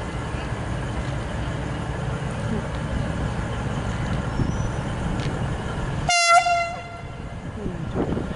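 A V/Line VL24 diesel train rumbles steadily at a station platform, then sounds a short loud two-tone horn blast before the engine noise continues; no one talks over it.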